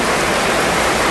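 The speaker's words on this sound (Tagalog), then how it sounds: "Yan, umuulan." Steady rain falling, a dense, loud, even hiss of water that fills the whole moment without breaks.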